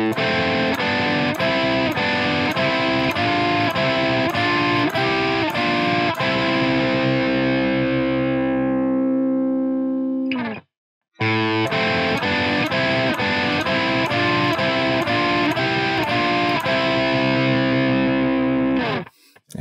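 Distorted electric guitar plays a folk metal riff in harmonized thirds, a loud run of rhythmic picked notes for about ten seconds, a short gap, then the riff repeats.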